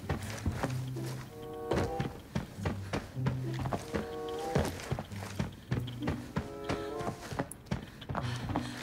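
Enemy footsteps on the floor above in a video game raid, a run of dull thudding steps in uneven clusters, fairly close and muffled, with short clanking metallic taps between them and no talk over them.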